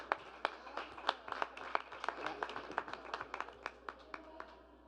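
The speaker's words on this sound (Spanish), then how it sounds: "Le damos un fuerte aplauso" Applause from an audience at a book presentation on political violence against women, a faint, steady patter of many hands clapping for about five seconds, distant and without talk over it.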